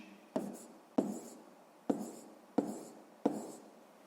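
Pen strokes as a math answer is written down in a sixth-grade exercise, five short scratchy bursts spaced about a second apart, close and clear with no talking.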